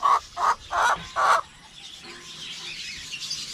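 Backyard chickens cluck four times in a quick, even series, close and clear, then soft farmyard ambience carries on with faint distant calls.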